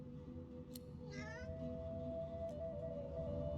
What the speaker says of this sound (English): The cat begins to purr and rub itself on your ankles.